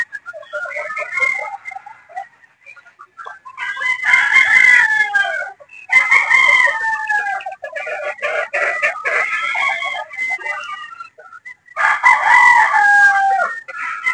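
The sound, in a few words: Boston Roundhead gamefowl roosters crowing and clucking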